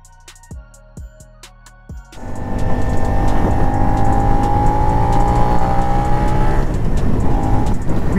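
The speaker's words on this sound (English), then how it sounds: "This exhaust for a slip-on sounds nice." A 2023 Suzuki SV650 motorcycle with a slip-on exhaust starts with a few short throttle blips, then roars into a loud sustained ride, engine pitch climbing and holding steady at close range.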